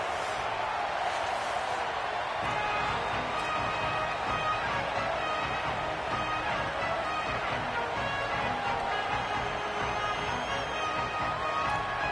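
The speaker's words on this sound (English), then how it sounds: "Kickoff unit is ready, and so is this home crowd" Home crowd at an Ohio State Buckeyes college football game against Mississippi State just before kickoff, a steady, dense stadium roar with faint scattered shouts running throughout.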